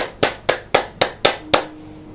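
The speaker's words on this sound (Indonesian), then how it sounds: "tepuk tangan" Six sharp, evenly spaced hand claps, close and crisp, each striking about a quarter second apart before stopping, with no talking.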